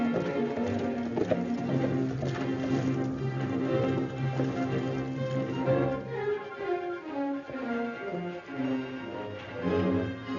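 Rhythmic horse hoof clip-clops in an old western film sound under steady background music, the hoofbeats moderately close and even.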